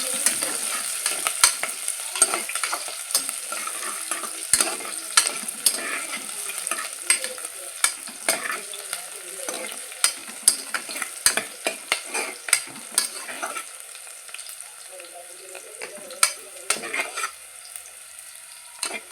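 Onions frying for biryani, sizzling steadily in a pan while a spoon scrapes and stirs with frequent clinks and knocks, close and fairly loud with no talk.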